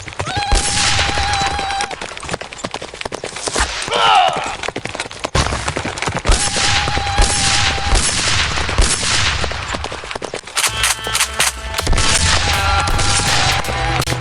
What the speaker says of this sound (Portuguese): Mais rápido com o tiro ao alvo, Carson.